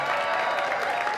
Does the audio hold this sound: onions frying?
no